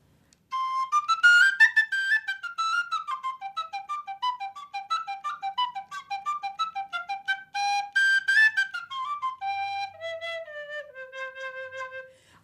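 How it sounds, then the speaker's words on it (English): A sassuto, a recorder-like wooden whistle, plays a clear solo melody of separate bright notes, close and steady, with no voices. "Let me play the sassuto again."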